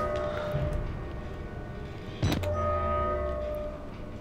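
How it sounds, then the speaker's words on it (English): Train station ambience in the video game Outlast: a loud, steady rumbling drone with a sustained low hum, a sudden clank near the middle, then a long low tone like a train horn or engine, heard alone. "Sounds like a train station."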